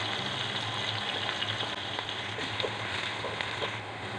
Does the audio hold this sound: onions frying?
yes